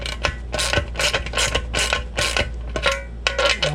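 Metal lock nuts being threaded down the studs of a gas tank mount on a motorized Mongoose bicycle, giving close, repeated ratcheting clicks and small metallic turns in a steady rhythm, with no voices.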